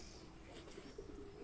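Soft, faint cooing of domestic pigeons, among them Madras and Shahjahanpuri breeds, heard in a brief low murmur with little else around.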